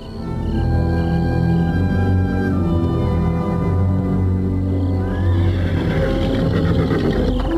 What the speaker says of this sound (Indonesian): Aku mendengar suara kuda Ayah.